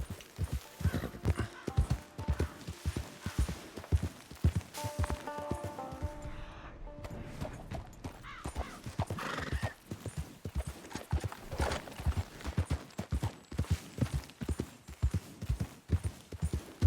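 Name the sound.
horse walking, hooves clip-clopping, from video game Red Dead Redemption 2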